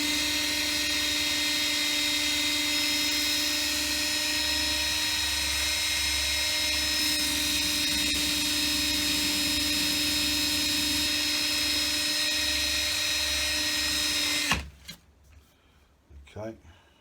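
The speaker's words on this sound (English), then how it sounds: "put it in the chuck of my drill. I'm going to give it a sanding" An electric drill whines at a steady high pitch while it spins a model P-51 Mustang nose cone held against sandpaper, running continuously for about fourteen seconds before cutting off abruptly, followed by faint handling noises.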